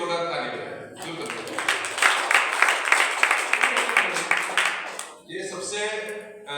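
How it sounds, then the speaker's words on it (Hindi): Congregation applause during a Christian teaching session, a burst of many hands clapping that swells and holds for about four seconds, loud and close, with a voice speaking before and after. "जी बोलिए आंसर। तो ये जो है मैं जेपी के एक जोरदार ताली बजाएं।"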